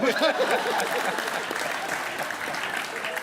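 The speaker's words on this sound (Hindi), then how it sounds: "करण भाई के लिए जोरदार तालियां" Studio audience applause on a comedy TV show, a loud burst of clapping with cheering voices at the start, then settling into steady clapping as a voice carries over it.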